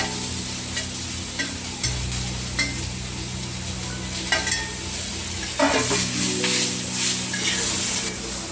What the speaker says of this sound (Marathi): आता कांदा परतत आला। आता आपण याच्यामध्ये तेल टाकून घेऊया थोडंसं आणि याच्यामध्ये टोमॅटो टाकून घेऊया